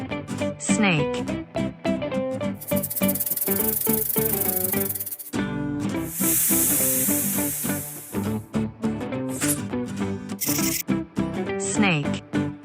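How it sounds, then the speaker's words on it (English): A snake hisses in long, loud, breathy bursts, three of them, over bouncy background music. "Snake."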